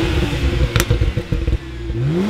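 A stage 1 tuned BMW N54 car with a stock exhaust and an aggressive burble tune revs and then lets off, throwing out a run of crackling pops and burbles close by before settling back to a low rumble.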